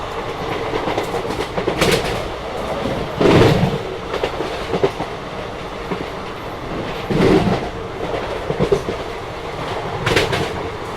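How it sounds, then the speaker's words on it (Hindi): A train runs through a small junction railway station in India, loud and close, with a continuous rumble and repeated clickety-clack wheel beats over the rail joints. "वैसे ये एक जंक्शन रेलवे स्टेशन है"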